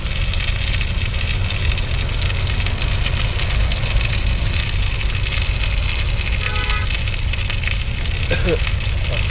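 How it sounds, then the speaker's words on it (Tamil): Onions sizzle loudly and steadily in hot oil in a pan while beetroot poriyal is cooked, a dense, continuous frying hiss close up with no break. "வெங்காயத்தை போட்டுருவோம்."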